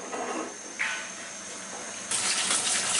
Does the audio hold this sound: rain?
no